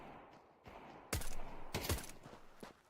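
Gunfire in a competitive esports match of a tactical shooter, with two loud, sharp bursts of rapid shots about half a second apart, a softer shot trailing later, over a low background hum.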